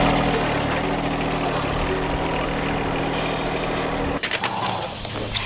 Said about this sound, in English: We are after that right there, the concrete mixer.